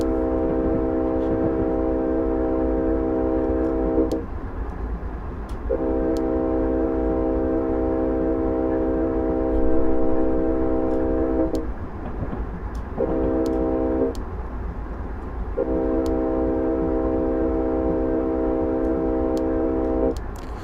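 A Union Pacific ES44 locomotive in a train simulator game sounds a long series of steady horn blasts, with two short blasts between longer ones, over a constant low diesel engine rumble.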